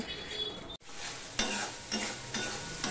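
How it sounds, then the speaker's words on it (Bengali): Yogurt is stir-fried in a pan for a Bengali katla fish curry over low-to-medium flame, a close sizzle with a brief dropout, then rhythmic stirring scrapes repeating roughly every half second. "এবার গ্যাসের ফ্লেমটা আরেকটুখানি লো টু মিডিয়ামে আমি দিলাম, দিয়ে আমি দইটা কষিয়ে নেব।"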